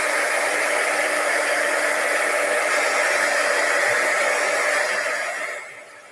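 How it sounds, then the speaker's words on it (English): A heat tool blows a steady, loud whirring rush of air while heat-setting stencil ink, running continuously before fading out near the end. "I'm going to heat set this just a little bit because I did need part of this."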